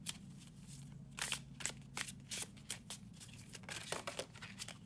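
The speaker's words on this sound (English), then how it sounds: "So it shuffles really nice if you overhand shuffle." A Marshmallow Marseille tarot deck is overhand shuffled by hand, soft papery slaps and flutters of cards in quick irregular bursts, close and quiet.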